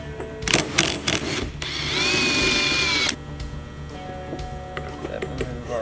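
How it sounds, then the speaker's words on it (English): A 3/8 impact wrench whirs and buzzes steadily for about a second while loosening a dampening rod held by a holding tool, surrounded by shorter mechanical clatter and shop noise. "We're going to insert it in here to hold our dampening rod while we loosen it with a 3/8 impact."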